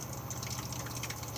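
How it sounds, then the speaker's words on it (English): Water draining from the opened drain valve of a caravan boiler, a steady close rush and gush of liquid running out continuously with no pauses. "it's now chucking all the water out of the boiler at that point just there"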